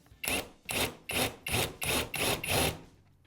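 Cordless drill with a countersink bit cutting a screw-head seat into wood, in seven short, evenly spaced whirring bursts, close and fairly loud.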